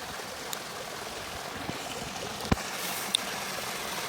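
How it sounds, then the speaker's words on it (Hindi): Water runs steadily from a pipe at an outdoor bathing spot, a continuous soft rushing with a few faint clicks and taps over it, fairly close and even throughout. "पानी कमती आ गया इसलिए पाइप थोड़ा सा हिलाना लगता है।"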